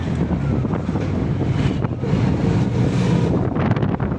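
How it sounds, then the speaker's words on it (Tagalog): Ride aboard a turtle motor boat on an artificial lake in Tangub City, dominated by loud wind rushing across the microphone over a constant low motor drone and water wash, with no talk. "Sakay kami ng turtle motor."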